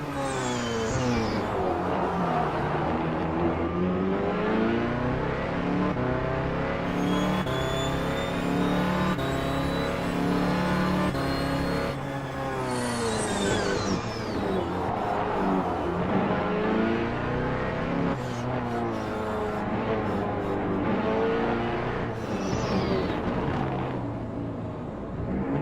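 A Ferrari 409P race car engine in a sim racing game at Long Beach roars continuously, revving up and down through gear changes with rising and falling pitch sweeps, loud and close with no talk.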